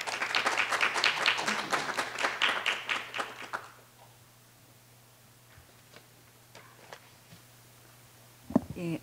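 An audience at a Korean network-policy forum applauds to welcome a lawmaker, a burst of clapping that fades out after a few seconds into a quiet room with scattered small knocks and a brief thump near the end.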